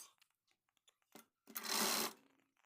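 A sewing machine stitches a sleeve lining in a short, steady burst of about half a second, preceded by faint scattered clicks and handling noises.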